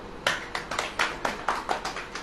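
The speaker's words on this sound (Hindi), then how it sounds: "ताली बजाइए।" A church congregation claps hands in a quick burst of about eight uneven claps, moderately close, with no talk over them.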